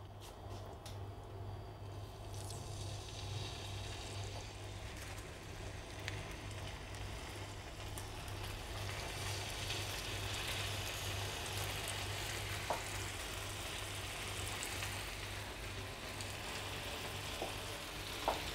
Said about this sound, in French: on va colorer les filets de merlu très rapidement, à peu près 30 secondes par face dans la poêle, avec un petit peu d'huile d'olive et à feu bien vif